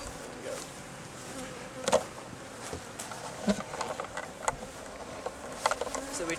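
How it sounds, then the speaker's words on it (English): Honey bees buzzing around a hive just after a transfer of bees and sealed brood, a faint steady hum with scattered louder passes of individual bees, no voices. "So we transferred some bees."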